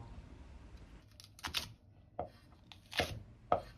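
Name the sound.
knife chopping chili peppers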